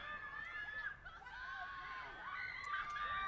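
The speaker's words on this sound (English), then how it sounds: "A lot of screaming coming from A someone. lot of fans in the crowd" Fans in the stands at a girls high school soccer game shouting and screaming, high excited voices rising and falling in bursts over a general crowd murmur, heard from a distance.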